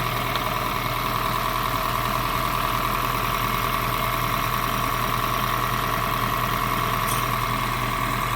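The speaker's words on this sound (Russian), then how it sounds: "Прогреется движок." A 2017 Honda Freed Hybrid engine idles steadily while warming up, with a constant low hum and faint mechanical rattle, unchanging throughout with no voices.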